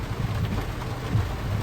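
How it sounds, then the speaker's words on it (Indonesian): Heavy rain pours down at dusk at a resort on a road trip through Subang, Bandung and Ciwidey in Indonesia, a dense steady roar with a low rumble throughout. "hujan deras ya dek."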